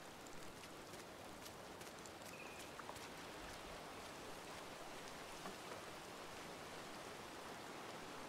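Steady rain falls in the Disney Dreamlight Valley video game, a constant soft hiss of drops pattering on surfaces that runs evenly throughout with no voices.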